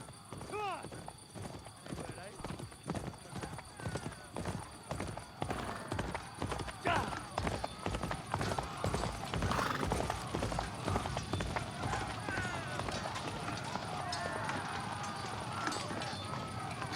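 Horse hooves gallop in the medieval game Kingdom Come: Deliverance II, a rapid, steady clip-clop that grows denser and louder over time, with shouting voices and game noise mixed in.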